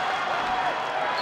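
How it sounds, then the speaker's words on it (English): An arena crowd at a Big Ten college wrestling dual between Northwestern and Wisconsin roars loudly and steadily, cheering on the home Wisconsin wrestler as a dense, continuous wash of noise. "Crowd's getting loud. They want a fall from the hometown kid."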